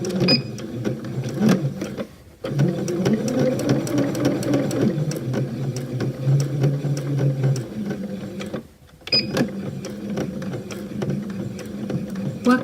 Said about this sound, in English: Starting from the next mark, we're going to sew down